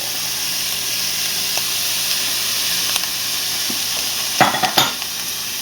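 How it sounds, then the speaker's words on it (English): Mushrooms fry in a hot pan with a steady loud sizzle and hiss, broken near the end by a few sharp stirring clatters and pops, with no voices. "Listen to that sizzle."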